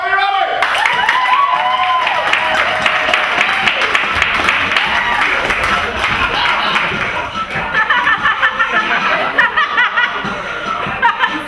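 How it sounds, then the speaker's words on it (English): Audience at a live stage show cheers and claps loudly for Barbie II, a dense sustained wash of applause mixed with laughter and whoops, close and continuous, with a voice speaking over it at the start. "let's give a great round of applause to Barbie II!"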